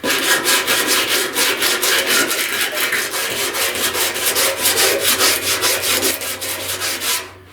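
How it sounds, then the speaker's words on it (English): Rhythmic back-and-forth rasp of a sanding block cutting body filler on a 1969 Chevrolet C10 front fender with coarse 36-grit paper, steady close strokes that stop abruptly at the end. "So I'm going to go ahead and trust my block and stop cutting right there."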